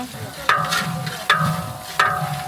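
Onions fry in hot oil with bay leaves, cloves and green and black cardamom for village wedding cooking, a steady close sizzle broken by three sharp spatula scrapes across the pan.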